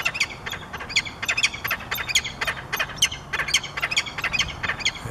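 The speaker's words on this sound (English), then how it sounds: "They do that when they hand off food, and that's their mating call also." A female bird gives her mating call, a run of sharp, rapid squawks and chirps in quick bursts, fairly close and loud over a faint background hiss.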